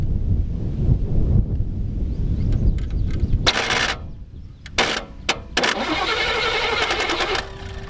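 An intermittent starter cranks a V8 Buick LeSabre that sat unused for 34 years. Loud rumbling and wind buffeting lead into sharp bursts of cranking that catch into a steady running engine, close up and without talk.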